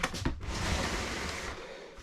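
A tambour door in a self-build campervan shower slides along its track, a short rolling rumble with a sharp click near the start, close by and brief, with no one talking.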